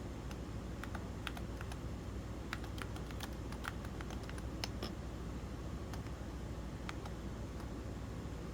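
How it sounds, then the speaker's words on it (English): Rapid typing on a Womier M68 HE magnetic mechanical keyboard, with a steady run of crisp, quiet key clicks and occasional sharper taps, recorded close up over a faint background hiss. "Yeah, that's the keyboard."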